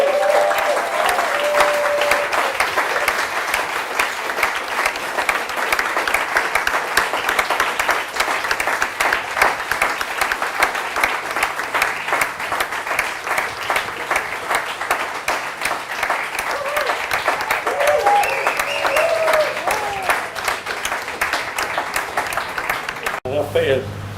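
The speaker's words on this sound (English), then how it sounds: "I think you heard it from the passionate applause" Sustained audience applause fills the room after a master's thesis presentation, a dense steady wash of many hands clapping at even loudness for the whole stretch, with faint voices and whoops surfacing now and then.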